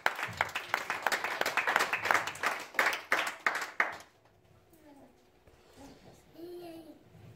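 A church congregation applauding in praise, a burst of dense rhythmic clapping for about four seconds that stops abruptly, followed by quiet murmuring voices and room noise.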